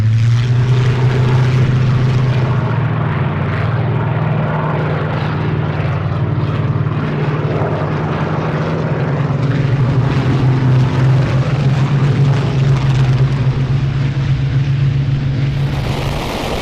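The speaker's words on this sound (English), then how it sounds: "A symphony of Merlin and Griffon engines to stir the soul." Rolls-Royce Merlin and Griffon piston aircraft engines roar at an airshow, a loud sustained propeller drone with a deep steady throb that swells and shifts as the planes pass, heard alone without talk.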